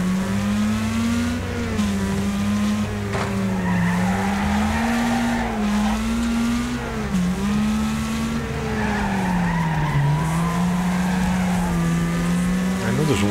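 Race cars in the Wreckfest video game roar through a fast corner, engines droning steadily while tires squeal and skid continuously, with someone talking over the racing.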